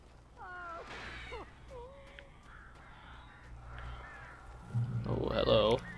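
Crows cawing in Alan Wake, several harsh calls in a quiet dark setting, rising to a loud flurry of flapping and cawing near the end, with a voice speaking over it.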